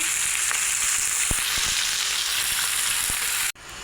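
Fish heads frying in hot oil for a Bengali banana-flower dish give a steady, dense sizzle with a few faint clicks, close and continuous, ending in a brief cutoff.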